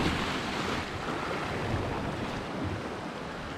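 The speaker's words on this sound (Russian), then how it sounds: "Смотрите, шторма нет, а вот такие волны уже поднимаются у нас." Sea waves wash steadily against the Crimean shore on a calm, stormless day, a continuous broadband surf roar with wind noise buffeting the microphone and no voices.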